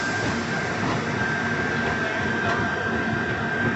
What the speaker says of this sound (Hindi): ऐसी आ गई है जम्मू तवी न्यू दिल्ली राजधानी एक्सप्रेस, जिसको नाइट किंग कहा जाता है